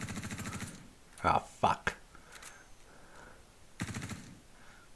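Video game gunfire in Star Citizen comes as a few sharp bursts of shots spaced across the moment, heard under a man's speech and exclamations.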